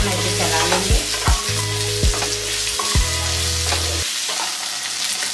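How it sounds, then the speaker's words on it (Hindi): Boiled medium potatoes stir-fry with curry leaves and green chili in a pan, a loud continuous sizzle punctuated by several sharp spatula scrapes and knocks over a steady kitchen hum, without talking. "इसे अच्छे से मिक्स करते हुए मैं इसे चला लूंगी।"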